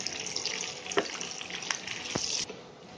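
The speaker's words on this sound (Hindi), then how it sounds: "अब इसमें डाल देंगे हम अपने काजू, उनको भी हम इसमें डाल के फ्राई कर लेंगे।" Cashews added to onions frying in oil for chicken changezi, a loud, dense hiss running for about two and a half seconds with a few sharp stirring knocks, then dropping away.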